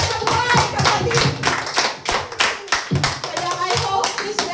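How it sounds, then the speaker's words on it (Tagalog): A church congregation claps in a loud, steady burst of many hands, mixed with voices speaking and calling out. "Palakpak para sa Diyos ng buhay, kapatid."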